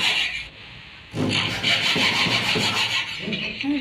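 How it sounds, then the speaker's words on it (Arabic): A saw cuts wall panel moulding pieces at 45-degree angles, a steady rasping, rubbing stroke that pauses briefly near the start and then continues loud and close in sustained back-and-forth strokes. "وهبتدي اقص كل المقياسات معايا اللي هي الزاويات ال 45 بتاعتي عشان ابتدي في التركيب بتاعي"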